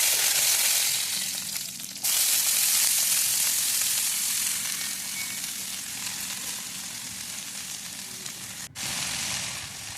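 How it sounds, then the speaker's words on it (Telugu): Curry leaves and dried red chillies frying in hot oil in a kadai, a loud, steady sizzle that runs throughout with two very brief dips. "ఎండుమిర్చి ఫ్రై చేయండి"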